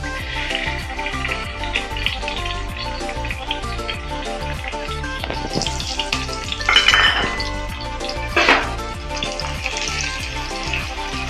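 Shallots, garlic and ginger frying in hot oil in a pan, a steady close sizzle with occasional stirring clatter and two brief louder bursts of spitting oil.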